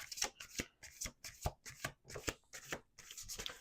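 Tarot cards riffle and snap in a quick, rhythmic series of bursts, crisp and close, with soft pauses between each shuffle.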